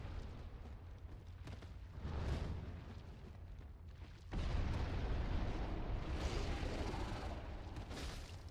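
Fire attack explosions in Dark Souls, a few muffled booms and roaring bursts that flare up and hang on, with one heavy blast partway through, at moderate level and with no talk over them.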